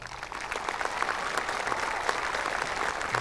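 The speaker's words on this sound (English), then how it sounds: "please give our staff an incredible round of applause" Audience applause for school staff at the North Quincy High School class of 2023 graduation, a steady wash of clapping that holds even and fairly loud throughout with no talk.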